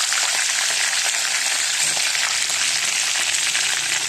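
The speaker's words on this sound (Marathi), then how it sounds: "जिरी मोहरी टाकली कढीपत्ता टाकले त्यात गॅस केले की घेऊ तीळ टाकले" Cumin, mustard seeds, curry leaves and sesame seeds sizzle hard in hot oil, a loud, steady hiss with faint crackles, close and constant throughout.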